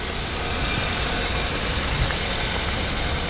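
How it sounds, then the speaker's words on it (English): A 2007 Renault Samsung SM3 with a 1.6-litre gasoline engine idling steadily up close, a constant low rumble with no talk. "Engine sound is good."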